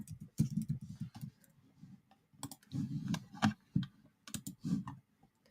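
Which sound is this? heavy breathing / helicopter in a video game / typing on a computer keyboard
typing on a computer keyboard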